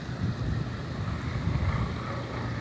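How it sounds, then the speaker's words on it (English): Strong blizzard wind roars outside during a March snowstorm, a steady, dense rushing blow that keeps up throughout with no talking. "But you hear that wind? It's very vicious out there."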